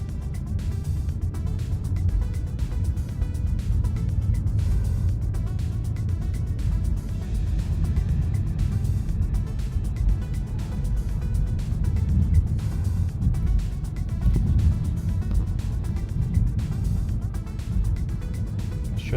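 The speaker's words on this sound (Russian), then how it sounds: "Едем, тест-драйв испытываем" A 2014 Honda Vezel on a test drive, its road and engine noise a steady low rumble throughout, loud and close as heard from inside the cabin, with no voices.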